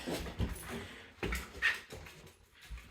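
A dog whimpers and yips softly at home as its owner comes in, a few faint, uneven whines and squeaks heard close by with no talk.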